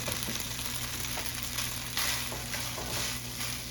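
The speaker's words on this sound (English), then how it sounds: "Oh, listen to that sizzle." Continuous crackling sizzle of rice frying in a hot pan, close and even, with faint stirring scrapes and no voices.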